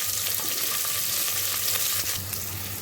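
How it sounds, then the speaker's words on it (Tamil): Onions sautéing in oil in a pan for biryani, a steady close hiss of sizzling with faint stirring scrapes, alone without talk. "இப்போ பார்த்தீங்கன்னா வெங்காயம் வந்து நல்லா வதங்கிடுச்சு"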